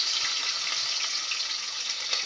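Onions and curry leaves fry in hot oil with fennel seeds while a Tamil fish curry is cooked, giving a steady, close, bright sizzle with no talk.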